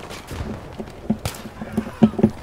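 Scattered gunshots from the video game Battlefield 3 pop in short bursts of several sharp reports, mid-distance and fairly quiet amid background game noise.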